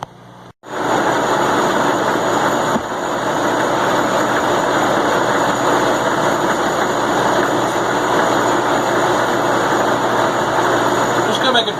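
A milling machine cuts a pocket into a steel blade for a homemade 45-ton log splitter, starting with a sharp onset and then a loud, steady, broadband grinding whine.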